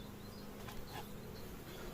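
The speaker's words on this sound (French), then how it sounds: "Et c'est bourré d'abeilles." A dense, steady hum of many honeybees fills the air from an opened nine-frame hive during a spring inspection, a close, constant droning buzz with no voices.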